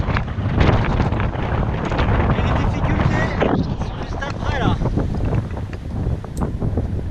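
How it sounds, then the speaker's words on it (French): Strong wind buffets the microphone on an exposed cliff face during multi-pitch climbing at Orpierre, a steady roaring rush throughout while climbers talk over it. "il y a un vent, il y a un vent, il y a un vent"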